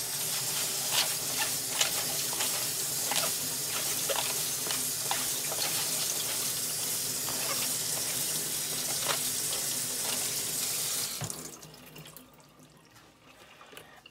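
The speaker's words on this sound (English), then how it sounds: "I am done washing the leaves" Steady running tap water splashing over fresh mint leaves being washed in a sink, continuous and close for about eleven seconds before the flow stops and only faint room noise remains.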